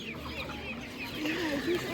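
Chickens clucking and chirping close by at a market, several birds overlapping in a steady murmur, no voices.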